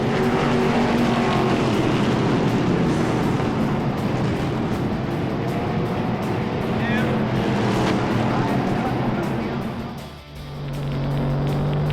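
A dirt track race car engine roars loud and continuous for most of the stretch, dipping briefly before surging back, with speech running underneath.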